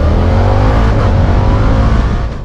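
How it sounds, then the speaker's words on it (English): Harley-Davidson Pan America ST motorcycle engine on its stock exhaust, a loud steady drone held close for a couple of seconds before fading slightly at the end. "The bike sounds aggressive in stock form."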